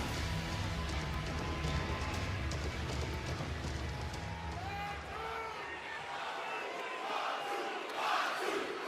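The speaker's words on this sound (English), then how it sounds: "Crowd really loves Jacob Fatu" Wrestling crowd at WWE SmackDown cheering and chanting for Jacob Fatu, a dense, sustained arena roar throughout with chant-like swells and a louder burst near the end.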